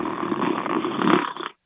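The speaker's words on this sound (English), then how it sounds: "That's you snoring." A caller's snoring comes over a phone line, a close, narrow-band rasping breath with a steady rough texture that swells near the end before cutting off abruptly.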